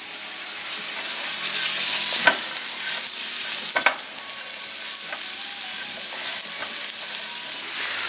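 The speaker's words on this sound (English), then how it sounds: "I'm going to mix that garlic up in there. You can hit it with a little more oil." Garlic and baby bella mushrooms frying in oil in a pan, a steady loud hiss of sizzling throughout, broken by a few sharp scrapes and clacks of stirring.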